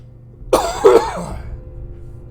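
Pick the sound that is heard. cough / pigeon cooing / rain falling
cough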